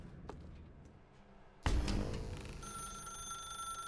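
A telephone rings in The Stanley Parable video game, a sudden loud burst of sustained ringing tone that starts partway in and continues steadily to the end after a quiet stretch.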